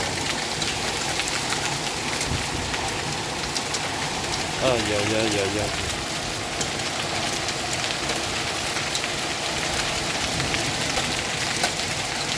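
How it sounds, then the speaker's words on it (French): Hailstorm pelting down outdoors in winter, a dense, steady hiss of hailstones striking surfaces that continues throughout, with a voice briefly exclaiming partway through. "Orage de grêle, j'avais pas prévu ça hein"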